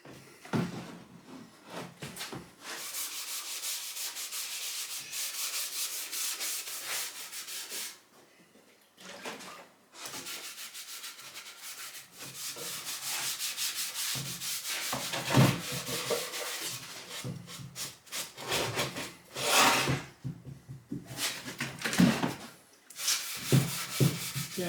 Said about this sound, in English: And we'll give it another light sand.